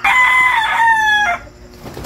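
A rooster, a brood stag of the Sweater Kelso gamefowl line, gives one loud, close crow lasting over a second, with the drawn-out final note trailing off into quiet background.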